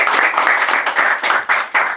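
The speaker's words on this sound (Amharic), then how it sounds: "ሞቅ አድርጋችሁ አጨብጭቡለት ለወንድሙ።" An audience at an Ethiopian-Canadian sports award ceremony claps loudly for a recipient, with rapid, steady applause filling the room without speech.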